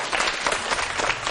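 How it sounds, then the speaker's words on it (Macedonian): Brief burst of audience applause for a group of students at a school music performance, dense steady clapping from a crowd across the whole moment. "Еден аплауз за овие ученици."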